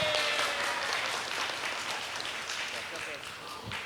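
A school audience applauds a public-speaking session, a steady broad wash of clapping sustained throughout at moderate volume, with some speech mixed in underneath.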